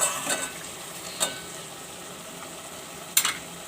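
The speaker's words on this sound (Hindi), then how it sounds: "लहसुन अदरक डाल के इसे हम थोड़ा सा भूनेंगे" Potatoes with garlic and ginger paste frying in a pan, a soft steady sizzle broken by a few sharp scraping stirs at irregular moments.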